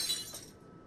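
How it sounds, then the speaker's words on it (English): A short burst of glass shattering in a reading simulator game, a bright crash that fades into silence within half a second, with no voices. "The sound of glass shattering rents through the air as soon as her hold on it loosens"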